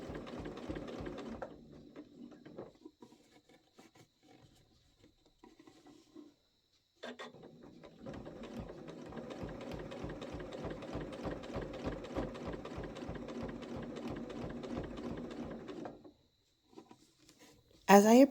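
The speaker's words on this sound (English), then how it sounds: "and then continue forward as I sew the binding to the top of the quilt" A sewing machine with a blind hem foot stitches binding onto the top of a quilt, running in rapid steady bursts with a short pause and restart, close and clear, with a brief louder sound at the very end.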